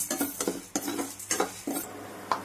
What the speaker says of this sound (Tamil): அதுலேயே நம்ம இந்த உளுத்தம்பருப்பை கொட்டிக்கணும். அதுவும் பொன்னிறமாக வர வரைக்கும் வறுத்து எடுக்கணும்